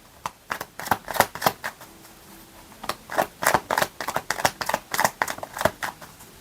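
Saju oracle tarot cards being shuffled, a quick run of crisp riffling flutters and snaps in bursts with brief pauses, close and fairly loud, no voices.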